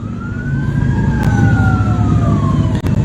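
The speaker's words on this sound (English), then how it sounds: "You can hear the songs of the motorbikes, the siren." A wailing emergency siren rises and falls steadily over a dense, rumbling drone of motorbikes during a cross-country motorcycle race, loud and fairly close, with a couple of brief clicks near the end.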